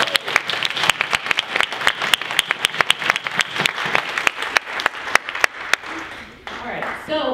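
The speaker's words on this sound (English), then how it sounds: "another round of applause" A conference audience applauds at a closing session, dense clapping from many hands filling the room loudly for about six seconds before thinning out into scattered claps and crowd murmur near the end.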